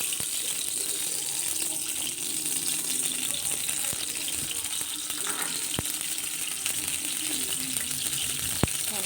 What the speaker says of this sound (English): Going to add 4 to 5 tablespoons of oil here.